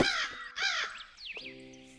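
Crows caw in a golf video game, two loud harsh caws in quick succession, then a fainter bird call and a sustained musical tone.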